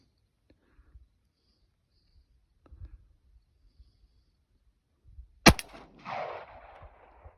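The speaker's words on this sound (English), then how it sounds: "Maybe I'll put it in the pistol and shoot that." A single sharp pistol shot from a KelTec CP33 firing a round that had earlier failed to go off, loud and close at an outdoor range, followed by a brief noisy tail after quiet handling sounds.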